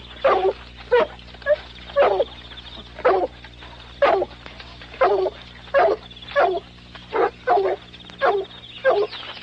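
Dogs barking repeatedly in steady bursts, mixed with whimpers and yips, fairly close and loud over a low background hum, in a 1981 film.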